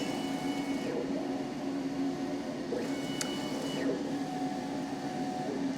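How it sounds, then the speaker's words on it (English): A laser cutter head runs a framing pass around the edge of a workpiece for a 3D map build, with a steady mechanical hum, whining stepper-motor moves and a brief click partway through. "I'm going to run what's called a framing command, which will make the laser go around what it thinks is the edge."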